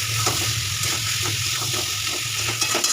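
Chopped tomatoes sautéing with fish and potatoes in a pan: a steady, close hiss of frying oil with faint intermittent stirring scrapes underneath.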